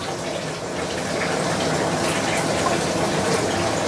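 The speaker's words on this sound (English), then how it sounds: "Now we can add in the hot water." Hot water poured into a hot wok for cooking fish, a loud continuous gushing splash that holds steady throughout.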